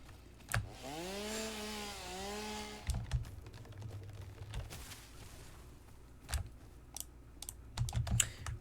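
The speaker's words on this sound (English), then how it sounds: "Guess I need to chainsaw a little bit." Chainsaw cutting in the video game Satisfactory, a rising and falling motor whine at the start followed by a series of sharp clicks and knocks, moderately quiet with no talk.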